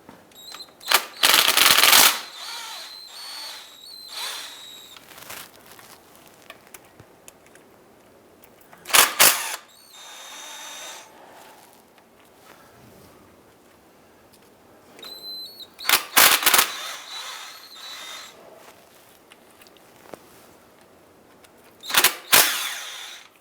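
A power tool whirs in short, loud bursts as it loosens the rear transmission oil pan bolts on a 2004-2009 Dodge Durango, separated by quieter stretches of clicks and handling noise.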